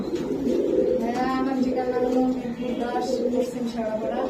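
Pigeons at a home pigeon farm coo in soft, repeated throaty rolls close by, layered over a low murmur of voices.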